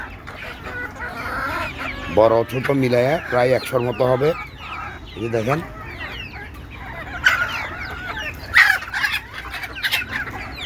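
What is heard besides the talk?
domestic chickens clucking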